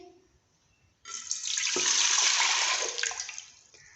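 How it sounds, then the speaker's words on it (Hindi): After a quiet start, water gushes steadily into a metal pressure cooker for about two seconds, then tapers off. "अब हम प्रेशर कुकर में पानी शामिल करेंगे।"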